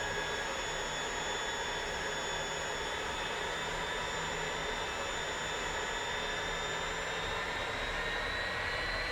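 Jet engine in the DCS World flight simulator spooling up, a steady broadband whine with rising high-pitched tones holding evenly throughout, fairly quiet and with no voices.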